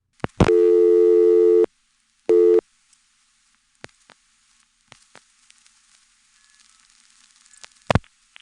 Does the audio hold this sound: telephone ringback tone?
yes